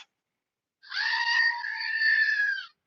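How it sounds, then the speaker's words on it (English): A screaming goat novelty toy lets out one long, loud, strained bleating scream of about two seconds, starting after a short silence and ending abruptly. "the screaming goat."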